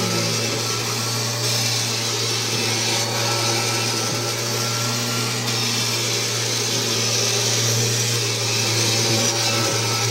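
A Kirby G4 80th Anniversary Edition upright vacuum cleaner runs with a steady, loud motor drone and a constant low hum that never changes throughout.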